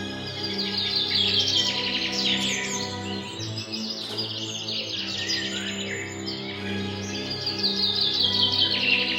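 Small birds chirp and trill continuously in bright, rapid bursts over a low sustained musical drone, fairly loud and with no voices.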